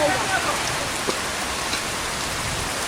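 Steady heavy outdoor rain pours down in a constant close hiss with scattered drop patters and no other sound standing out.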